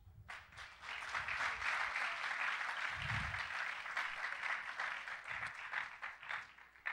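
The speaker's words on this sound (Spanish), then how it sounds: "Haz un aplauso a Jesús." A church youth-campaign congregation claps for Jesus, a steady wash of applause at moderate distance with a few low thumps underneath and no talking.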